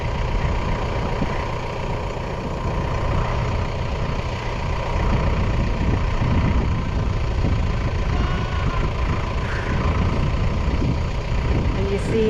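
A tractor works in a soggy, rain-soaked hay field, its engine a steady, loud low-pitched drone and rumble that runs throughout without letup; a voice may be faintly present.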